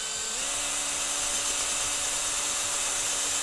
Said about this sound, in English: we're going to drill it from this side because our rotation is going clockwise